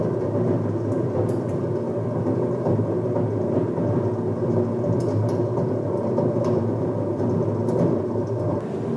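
Bread machine kneading flour, water and sourdough starter into dough, a steady low mechanical rumble and churning hum with faint irregular knocks, continuous and close, no voices.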